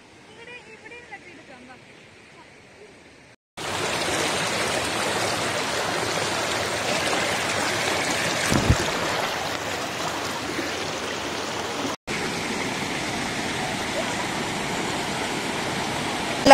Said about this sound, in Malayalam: മറ്റേ പല സ്ഥലത്തു നിന്നായിട്ട് ഒഴുകി വന്നിട്ടുള്ളൊരു മേർജിങ് പോയിന്റ് ആണ് കേട്ടോ